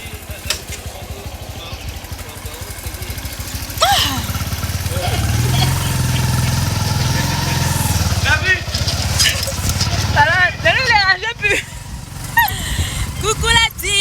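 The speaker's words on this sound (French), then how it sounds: "Aujourd'hui on va faire l'intro sur la moto." Motorcycle engine running steadily throughout a ride, a low droning hum that swells and shifts with the throttle, under frequent talking by a rider.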